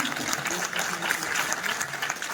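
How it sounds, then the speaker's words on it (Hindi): An audience at a stage play performance applauds steadily, a soft even wash of clapping with no voices over it. "एक ताली मेरे लिए भी"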